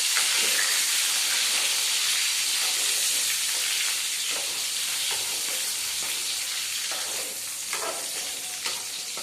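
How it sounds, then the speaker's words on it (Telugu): Brinjal pieces frying in hot oil give a steady, close sizzle and hiss that runs unbroken throughout, with faint stirring scrapes now and then. "వంకాయలు కొంచెం పచ్చి వాసన పోయేదాకా మనము నూనెలో వేసుకోవాలి."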